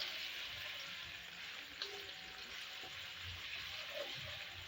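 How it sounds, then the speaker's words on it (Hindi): Onions fry in hot ghee, a soft, continuous crackling sizzle heard close but at low volume, steady throughout with a few faint stirring clicks and no voices. "घी गर्म हो गया, अब इसके अंदर प्याज डालते हैं इसमें, और प्याज को हम ना फ्राई कर लेते हैं"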